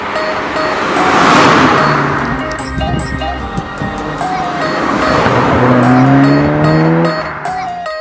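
A 2017 SEAT Leon Cupra 300 hot hatch, 296 bhp, driving with a broad engine roar that swells and fades twice, gear-like tonal sweeps rising near the end, loud and close with no talk.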